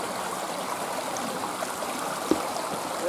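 Fast-flowing river water rushes steadily beside a waterfall, a dense, continuous broadband roar with a faint splash or knock partway through and no voices.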